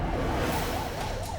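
An ambulance siren in Seoul wails in a rising and falling sweep over steady traffic rumble, heard faintly from a distance.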